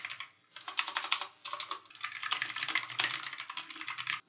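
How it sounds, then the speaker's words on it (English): Fast, steady typing on a Pictek TKL mechanical keyboard with blue-style clicky switches, crisp bright clacks in dense runs with a couple of brief pauses, close up and with no voices. "Let's start giving it an initial typing test."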